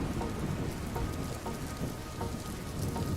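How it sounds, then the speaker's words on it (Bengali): Steady rain pours down in an animated Bengali fairy-tale cartoon, a dense continuous hiss of drops with soft patters, moderately loud and unbroken throughout, with no voices. "এদিকে তো বৃষ্টি থামার নাম নেই।"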